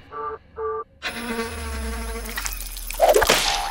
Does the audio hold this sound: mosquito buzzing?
yes